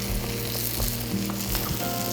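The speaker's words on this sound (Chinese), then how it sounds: "大火烧开" Sauce in a wok over a high flame, made with fermented red bean curd, rose wine, pepper and chicken powder, gives a steady close sizzle and bubbling hiss with a few soft clinks, and nobody speaks.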